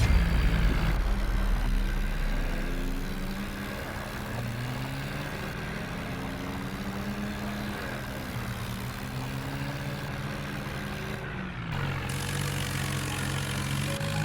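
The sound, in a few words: tractor engine in a video game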